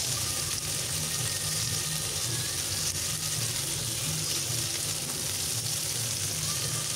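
Fish fry in hot oil with a steady, dense sizzle and crackle that stays loud and close throughout, with faint clinks now and then.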